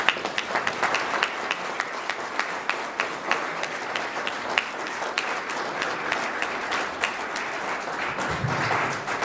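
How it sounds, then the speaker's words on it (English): A room of people at a Rotary club meeting claps together in steady, dense applause that carries on at an even level for several seconds, with no talking over it. "let's give her a big round of applause"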